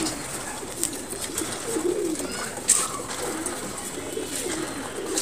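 Pigeons in a loft give soft, low cooing calls that run steadily under a faint background murmur, with no talk.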